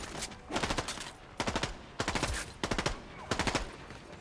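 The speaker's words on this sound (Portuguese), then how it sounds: "Eu não sei de onde esse cara tá atirando, velho." Rapid bursts of automatic gunfire in a first-person shooter video game, several clustered volleys of fast shots repeating at a steady rhythm, loud and close.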